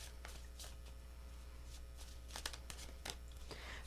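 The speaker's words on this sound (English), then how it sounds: "Two more shuffles." Tarot cards are shuffled in several quick riffling and slapping bursts, faint and close against a steady low hum. No one talks.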